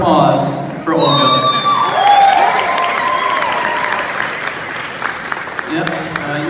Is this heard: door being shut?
no